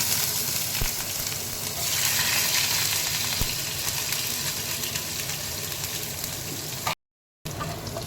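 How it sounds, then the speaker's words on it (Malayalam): Ginger and garlic frying in hot oil right after mustard seeds in a pan, a continuous close sizzle with stirring scrapes and occasional sharp crackles, no speech. "ഇനി നമുക്ക് കടുക് കൂട്ടിയതിന് ശേഷം വേഗം ഇഞ്ചി വെളുത്തുള്ളി ഇട്ട് കൊടുക്കാം"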